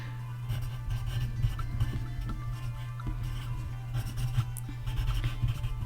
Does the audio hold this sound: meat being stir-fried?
no